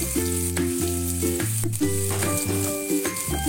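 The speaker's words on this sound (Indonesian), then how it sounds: "kita siapkan wajan dan kita goreng lidah yang sudah kita potong-potong" Cut pieces of beef tongue fry in a wok with a little oil, giving a steady sizzle that sits beneath prominent, rhythmic tonal music.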